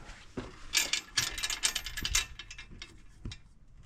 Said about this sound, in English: my air hoses are not that big, so I'm just hand pumping it